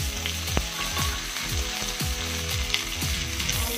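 Potatoes added with chilies to a hot pan and frying, making a continuous close sizzle with recurring short tonal chirps over a low background hum.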